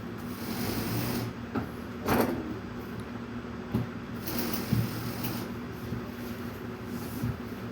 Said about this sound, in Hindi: अभी ये जो है ना इसकी दूसरी सिलाई लग रही है।